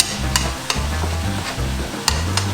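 Taco meat sizzles steadily in a hot pan as its fat renders, a constant close frying hiss broken by a few sharp scrapes and knocks of a utensil stirring it.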